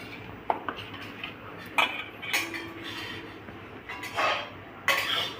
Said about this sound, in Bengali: এখন আমি এই মাছটাকে মাখিয়ে নেব।